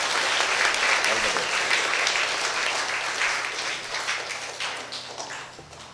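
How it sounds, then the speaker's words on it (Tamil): A church congregation gives a priest a welcoming burst of loud applause in a Catholic church, clapping thick at first and then gradually thinning and fading. "தந்தை அவர்களை 2 மடங்கு சத்தமாக கைத்தட்டி வருக வருக என்று வரவேற்போம்."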